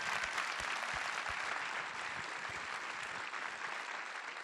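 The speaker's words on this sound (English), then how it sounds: "let's just give them a round of applause" Applause from a cinema audience for the projectionists after a screening Q&A, a dense, steady wash of clapping that holds at an even loudness for the full length, with no voices on top.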